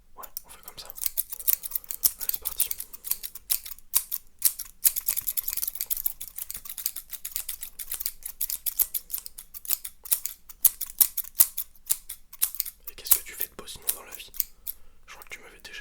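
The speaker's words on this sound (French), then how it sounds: "Je peux reprendre mes ciseaux." Scissors snip rapidly and repeatedly close by, a quick crisp clicking rhythm of hair being cut, with soft murmured voices in the background.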